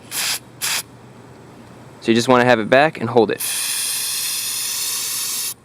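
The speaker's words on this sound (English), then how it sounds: "So with our mass airflow sensor cleaner ready to go, you're going to spray this a lot." Short bursts of aerosol mass airflow sensor cleaner at first, then someone speaks briefly, followed by a long, steady, loud spray hiss that runs to the end.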